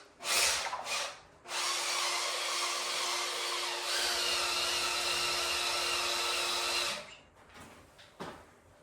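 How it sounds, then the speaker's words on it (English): A big DeWalt drill whines steadily for about five seconds as it spins the oil pump to prime a Mopar 580 stroker engine, with brief bursts before and after. "I got my big DeWalt in here to prime this dude."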